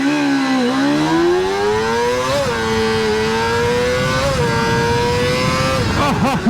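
A Kawasaki ZXR250 motorcycle engine screams at high rpm as it accelerates from 0 to 100 km/h. The loud, steady, close whine climbs in pitch, dropping briefly at each gear change, roughly four shifts.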